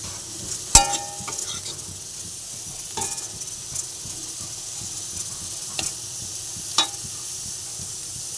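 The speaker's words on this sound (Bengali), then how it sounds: "একটু ভেজে নিচ্ছি।" Pieces of boiled potato fry in a pan with pointed gourd and shrimp. A soft, steady sizzle runs close by, broken by a few sharp clinks of a utensil against the pan.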